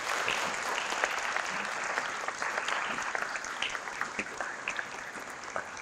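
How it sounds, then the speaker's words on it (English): Sustained audience applause for a middle school student at a Do The Right Thing recognition ceremony, a steady crackle of many hands clapping throughout, moderately loud and without speech. "Will you join me in applauding Valentina?"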